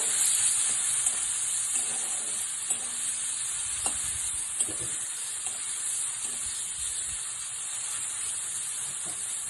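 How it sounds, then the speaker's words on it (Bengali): Tomatoes with a pinch of salt are stirred in a frying pan. A soft, continuous sizzle and hiss runs throughout, broken by occasional scraping clicks of the spoon, and nobody speaks. "টমেটোটা গড়ানোর জন্য দেব একটু লবণ সামান্য আবার একটু নাড়িয়ে নেব"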